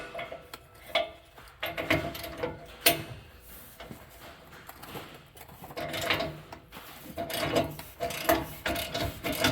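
A 3/4 wrench works on exhaust pipe bolts, giving irregular metallic clicks and scrapes close by, with bursts of tool contact spread through the clip.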